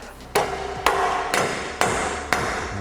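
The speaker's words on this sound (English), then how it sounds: "We should have a reasonable size hammer somewhere." Hammer blows land while a Nussbaum lift is being installed in a garage: five sharp, loud metallic strikes spaced roughly half a second apart, each ringing briefly before the next, with no voices.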